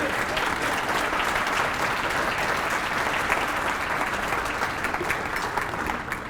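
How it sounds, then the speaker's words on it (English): Loud, sustained audience applause at a civic State of the Cities event, thick continuous clapping from a large crowd filling the whole stretch, close and even in level. "Now your exuberant applause would be appreciated."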